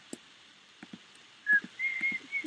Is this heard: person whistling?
yes